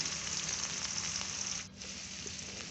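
Onion fries in hot oil with a steady, soft, hissing sizzle that dips briefly partway through, then carries on quietly, with no one talking.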